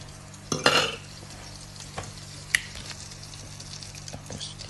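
Duck frying in a hot pan with oil and butter, a soft steady sizzle with a brief louder burst of stirring near the start and a few light clinks of utensils.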